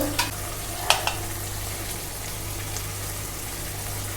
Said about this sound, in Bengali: যতক্ষণে পেঁয়াজটা ভাজা হচ্ছে